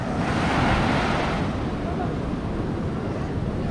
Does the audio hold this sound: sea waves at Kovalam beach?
yes